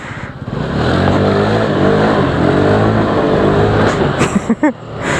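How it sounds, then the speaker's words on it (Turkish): A car engine revs hard and steady close by, a loud sustained roar that eases off into a few short throttle blips near the end, with a little laughter mixed in. "gazı getiriyor"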